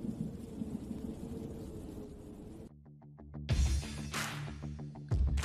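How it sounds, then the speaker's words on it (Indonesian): A thunderstorm with rolling thunder rumbles over steady rain. A few sharp crackling bursts stand out against the low, booming roll. "Tahukah kalian mengapa kilat petir terlihat lebih dahulu daripada bunyi guntur?"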